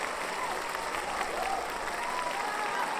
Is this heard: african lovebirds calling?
no